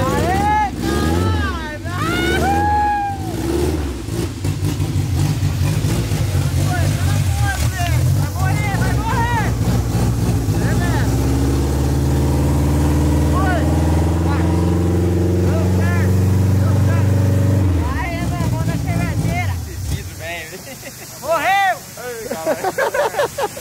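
A Chevette car engine idles and runs while warming up, its low harmonic drone and rising revs steady under speech, loud and close throughout before thinning out near the end.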